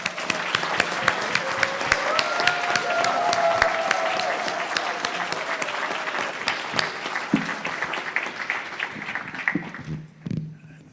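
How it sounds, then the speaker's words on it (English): Audience at a National R&B Hall of Fame induction ceremony breaking into sustained applause, dense clapping with a few cheers and whistles, swelling and then thinning toward the end. "I'd like for everybody, one more time, to give him a nice round of applause."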